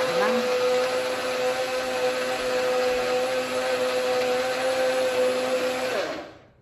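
A blender whirs steadily, mixing milk and ice cream into a milkshake, its motor holding a loud, even drone throughout before cutting off at the end.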